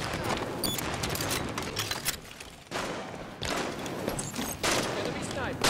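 A DMR rifle fires in a Halo 5: Guardians beta match, giving repeated sharp shots in bursts amid busy game noise. A voice can also be heard talking.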